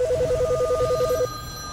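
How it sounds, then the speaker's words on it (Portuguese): Telephone ringing at a NASA call center, a loud, rapid warbling electronic trill lasting just over a second, then cutting off and leaving a low background hum. "O telefone da central de atendimento da NASA não para de tocar."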